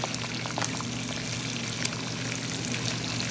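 Garlic fries in rendered pork belly fat for an adobo, giving a steady, dense sizzle that holds at an even level throughout with no talking.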